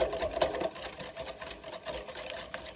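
Sugar is mixed into sour cream muffin batter along with vanilla, with a continuous, fairly loud whirring churn that runs steadily and close throughout, without speech.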